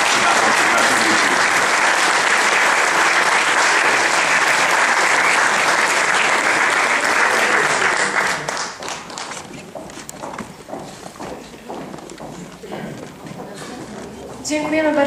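Audience applause after a lecture at a Polish ceremony, loud dense clapping for about eight seconds, then thinning into scattered claps and murmuring before swelling briefly again at the end.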